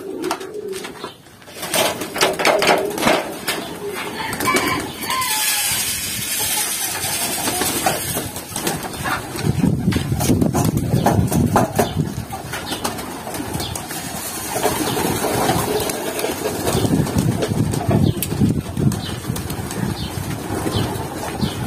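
Pigeons in Baku coo and flap their wings while being fed, a dense close flock sound with a low engine-like hum running underneath throughout.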